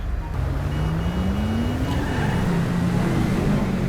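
A car driving in the video game GTA 5, its engine a continuous hum that rises steadily in pitch as it speeds up, then dips and levels off, with no talking.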